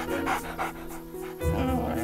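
A dog pants close by in quick, rhythmic breaths, a few clear huffs followed by a deeper exhale, with faint background sound beneath.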